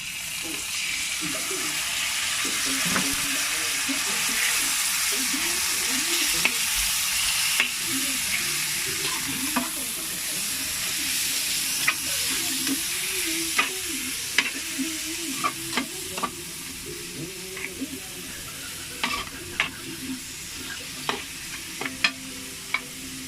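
Ground pork sizzles and crackles in a hot pan while a utensil stirs and scrapes through it, a steady frying hiss punctuated by repeated sharp clicks and taps that grow more frequent toward the end.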